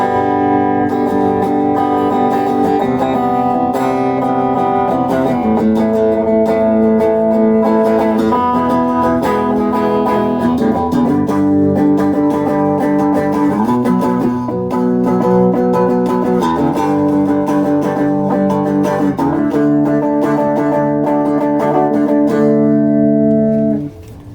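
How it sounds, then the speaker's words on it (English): Clean electric guitar tones played on a Chapman guitar through a KMISE Classic Chorus pedal with the chorus off, a steady sequence of ringing chords and notes, loud and close for over twenty seconds, ending abruptly. "Let's get some clean tones going on the Chapman here."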